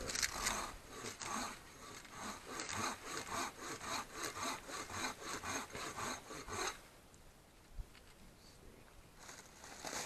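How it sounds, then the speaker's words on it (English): A hand saw cuts through a small green sapling in the woods to get spoon wood, with steady rhythmic back-and-forth strokes up close that stop partway, leaving quiet outdoor ambience. "So I think this little sapling right here might be perfect for a couple of spoons. I'll cut it about right here."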